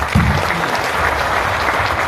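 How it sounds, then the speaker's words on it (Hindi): An audience breaks into loud, sustained applause, dense clapping filling the whole stretch. "इसके लिए भी आप ताली बजा सकते"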